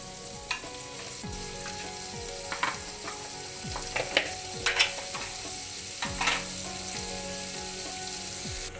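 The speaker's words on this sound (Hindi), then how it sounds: "अब हम कढ़ाई में 1 स्पून बटर डालेंगे।" One spoon of butter sizzles in a kadhai before chopped onion and capsicum go in for tawa pizza butter paneer, a continuous crackling fry with scattered sharp pops and spits, close and unaccompanied by speech.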